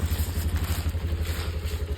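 A motorcycle engine idling nearby outdoors, a steady low rhythmic thump with light mechanical rattle and no voices.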